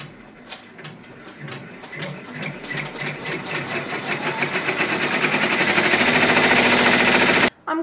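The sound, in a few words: multi-needle embroidery machine stitching placement lines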